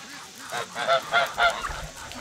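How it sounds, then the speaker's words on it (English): Geese honking indoors near a brooder of hatching chicks, three or four close, nasal honks in a quick, rising series, fairly loud and clear over a quiet background. "How in the world did we get geese in here?"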